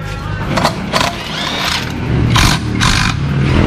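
A Yamaha Aerox 155 ABS scooter engine and exhaust running close by, a rough, steady rumble with a few rising bursts of revving.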